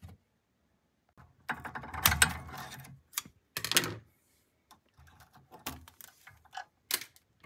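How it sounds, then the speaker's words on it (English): Plastic cable ties on a claw machine are snipped off one after another with cutters, giving sharp clicks and rustles in irregular bursts, close and fairly quiet, with no voices. "So I'm gonna cut all these plastic ties off."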